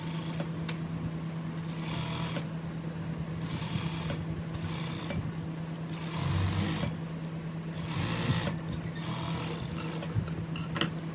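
A sewing machine runs a folding stitch along blouse piping, its whirring motor rising in several bursts with brief pauses in between, close and steady with no talk.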